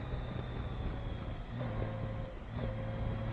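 Honda Gold Wing motorcycle engine droning steadily while riding through corners, a continuous moderate hum with slight rises in pitch as the bike pulls through the bends.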